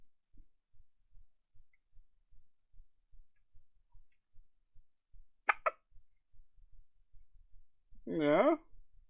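A baby hiccups twice in quick succession, then lets out a short cry, close and fairly loud over a faint steady rhythmic ticking or heartbeat-like pulse.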